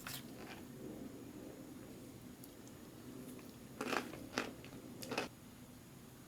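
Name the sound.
eating crunchy noodles with MRE beef teriyaki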